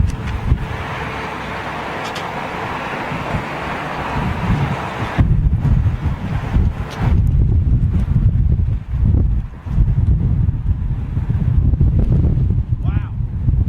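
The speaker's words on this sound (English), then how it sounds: "Wind's seriously picking up, folks." Strong gusting wind buffeting the microphone at London Heathrow Airport, a loud, roaring rumble with sudden surges, while someone talks over it.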